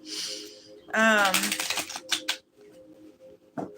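Tarot card decks being shuffled: a papery riffling burst at the start and a cluster of quick flicks in the middle, with a voice partly over the shuffling.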